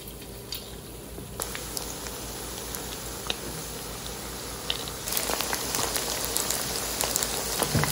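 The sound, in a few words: chicken 65 pieces frying in hot oil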